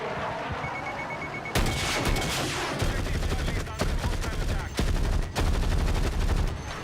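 Video game gunfire strafes in dense, rapid bursts of shots, loud and continuous with brief gaps, with no talking.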